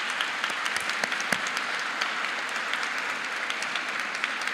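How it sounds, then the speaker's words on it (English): Crowd applause at a formal announcement event, a dense steady clatter of many hands clapping at moderate loudness throughout, with no speech. "Please give them a round of applause."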